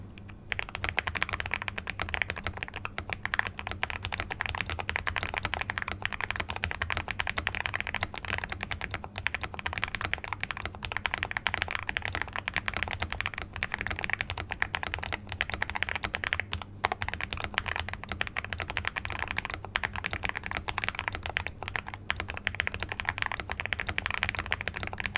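Continuous fast typing on a modified Vortexseris Mono keyboard, a steady run of close, crisp key clacks with no talking.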